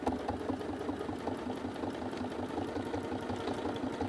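Sewing machine stitching appliqué fabric, a fast rapid mechanical chatter running continuously at an even pace, fairly close and moderately quiet.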